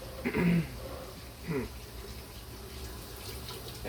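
Cold tap water runs while a milk frother is rinsed, a steady soft hiss and splash with louder bursts as the stream hits the jug. The sound is faint and close, and voices talk quietly over it.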